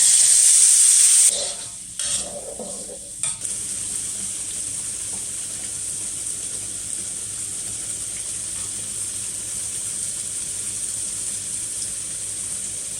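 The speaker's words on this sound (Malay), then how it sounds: "Bila menumis sambal macam ni lah kan, pecik sana pecik sini" Sambal being sautéed in a pan for a home nasi lemak breakfast, hissing and sizzling steadily at close range after a brief louder spatter at the start, with scattered pops over the constant fry.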